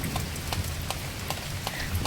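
Heavy rain falls in a steady wash with scattered sharp drops ticking nearby on a surface, moderately loud and continuous without any voices.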